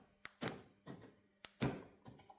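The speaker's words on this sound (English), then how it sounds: "So I've got the door locks working again now." Door locks on a Ford Capri operating: several short, close mechanical thunks and clicks in quick pairs, quiet and alone with no talking.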